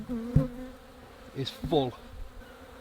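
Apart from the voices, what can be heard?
honeybees buzzing on a hive frame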